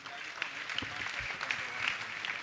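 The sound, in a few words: audience applauding doctors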